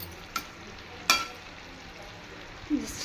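Pumpkin curry with garlic and flour sizzling in a frying pan, a steady soft frying hiss broken by a few sharp clinks of the stirring spoon, close and alone.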